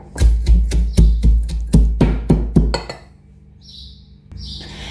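Spices for Payyoli chicken fry pounded in a mortar: about eight sharp, evenly spaced heavy thuds with crunchy ringing, then the pounding stops and a quieter background with faint chirps follows.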